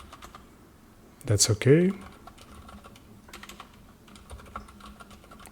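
Soft, light clicks of typing on a computer keyboard come in scattered taps, faint and close, with a brief spoken phrase breaking in near the start.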